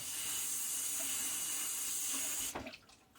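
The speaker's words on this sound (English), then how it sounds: "Give it a nice rinse under the sink to wash off any bristles that might be hiding." Cactus pads being rinsed under a kitchen sink tap to wash off bristles: a steady, close hissing stream of running water that cuts off abruptly near the end, leaving faint drips and handling noises.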